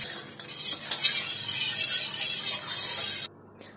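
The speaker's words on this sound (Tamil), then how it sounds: "நல்லா மிக்ஸ் பண்ணி விடுங்க" Honey being stirred into pomegranate juice, a steady close swishing and clinking of a spoon against the container that runs for a few seconds and then stops abruptly.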